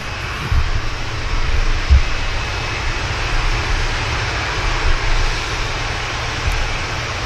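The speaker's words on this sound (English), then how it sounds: "Next heavy lining up, Indigo Dreamliner from Mumbai back to India." An IndiGo Boeing 787 Dreamliner heavy jet lining up for departure at Manchester Airport, a steady broad engine roar with deep low rumble holding at a constant distance, no voices.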